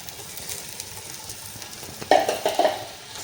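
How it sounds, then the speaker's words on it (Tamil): Tomatoes and chili powder fry in hot oil for chicken biryani, a steady close sizzle, then a spoon scrapes and stirs the pan in a few short louder strokes toward the end. "இந்த தக்காளி நல்லா மசிஞ்சு அந்த ஆயில் கொஞ்சம் கொஞ்சம் மேலே வரணும் அது வரைக்கும் நல்லா நம்ம ஃப்ரை பண்ணணும்"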